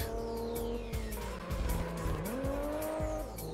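Racing car engine revving through shifting gear pitches with tire squeals and skids in the PS1 racing game Tuning Car Battle Spec R, loud and continuous with no talking.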